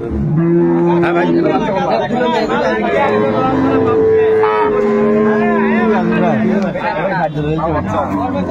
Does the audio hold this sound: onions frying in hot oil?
no